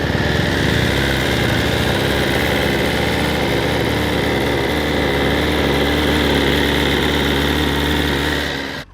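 A BMW S1000 RR sport motorcycle engine idling steadily up close, a loud continuous mechanical rumble with a faint wavering pulse and no voices.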